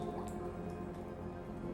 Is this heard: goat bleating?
no